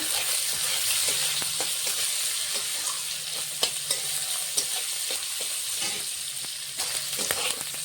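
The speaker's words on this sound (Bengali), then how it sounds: "পেঁয়াজটা আমি হালকা ভেজে নেব। কাঁচা লঙ্কা কুচিটা দিয়ে দেবো।" Sliced onion and chopped green chili fry in a pan for a prawn curry with potato, pointed gourd and eggplant, giving a steady close sizzle broken by scattered clicks and scrapes of stirring throughout.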